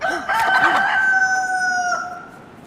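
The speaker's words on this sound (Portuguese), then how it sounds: "Vai esse galo aqui, já vai." A rooster crows once in the survival video game DayZ, a loud, close call with a rising start and a long sustained tone that trails off, heard alone with no talk over it.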